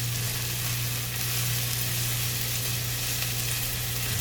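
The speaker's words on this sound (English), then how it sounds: "we'll add in diced onions, diced pimentos, and I'm going to let this cook until the onions are slightly tender" Diced onions and pimentos fry in oil in a skillet for a corned beef shepherd's pie, giving a dense, even, loud sizzle without pause, with a low steady hum beneath and no speech.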